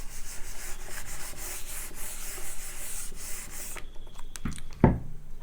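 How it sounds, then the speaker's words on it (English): Steady scrubbing of a board eraser wiping chalk writing off a classroom board during a physics lesson, continuous rubbing strokes for several seconds, then a couple of sharp knocks near the end, with no talking. "I'll rub this up now."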